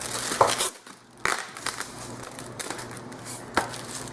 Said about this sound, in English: Again, I'll grab my trusty scissors.